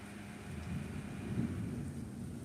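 Recorded thunderstorm with rain played back indoors: a steady hiss of rain over a low, rolling thunder rumble that swells slightly midway, with no talking.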